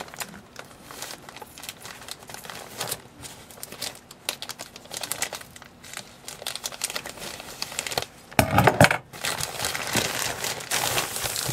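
Scissors slicing open a cardboard parcel holding a New Year gift, heard as close crinkling, tearing and crisp snipping noises that build into a louder burst of cutting near the end, with no talking.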